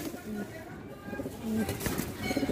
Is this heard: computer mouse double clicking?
no